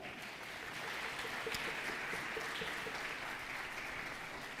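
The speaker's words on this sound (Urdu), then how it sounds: "ان کے لیے بہت ساری تالیاں." Studio audience applauding at a Ramadan iftar game show, a steady, dense wash of clapping that holds evenly at a moderate level throughout without a break.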